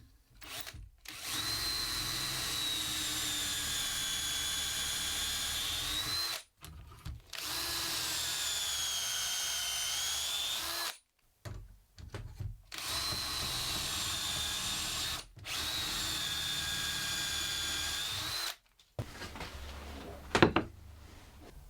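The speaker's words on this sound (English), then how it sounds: "I have a doweling jig, so I'm going to get the holes drilled with that." A power drill bores dowel holes guided by a doweling jig for a wooden table build, whining loudly in four long sustained runs of several seconds each, separated by brief pauses, with a short rougher burst at the end.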